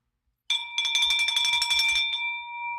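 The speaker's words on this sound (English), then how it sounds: "I think we need a bell for the show." A bright bell rung during a live show gives a single sustained ringing tone with rapid clattering strikes underneath, then the tone lingers and slowly fades on its own.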